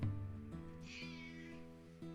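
A cat meows once in a drawn-out, wavering cry, fairly faint, over a steady background hum with no talk.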